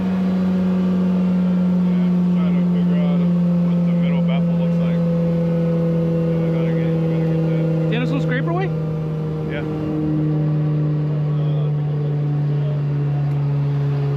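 Septic pump truck running steadily while it sucks, a loud, close, constant droning hum with a strong low tone, and a couple of brief clanks partway through. Voices talk over it.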